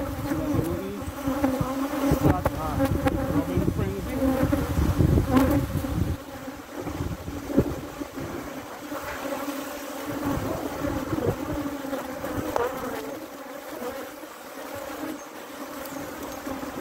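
Honey bees buzzing densely around evenly spaced beehive frames, a close, continuous droning hum that is loudest at first and then settles slightly lower, with no one speaking.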